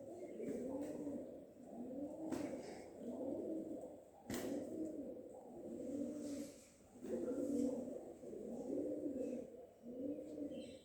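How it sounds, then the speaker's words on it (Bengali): Pigeons bathing in a bucket at a temple in Barddhaman coo in a steady, rolling series of low calls about once a second, close and clear, with faint voices and a few sharp knocks in the background. "কি সুন্দর বালতিতে পায়রাগুলো কেমন চান করছে।"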